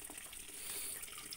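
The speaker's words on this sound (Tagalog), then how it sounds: "Ayan, bumababa ang tubig, dumadaloy, malakas." Spring water flows strongly down between banana trees, a steady faint rushing and splashing like a running tap, continuous and unbroken.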